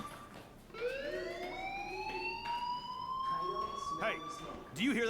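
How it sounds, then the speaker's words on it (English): A fire alarm in the video game Life is Strange sounds as a steady, rising electronic tone that holds for several seconds at moderate volume, with game voices talking over it. "Hey, do you hear that fire alarm?"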